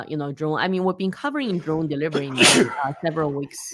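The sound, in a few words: sneeze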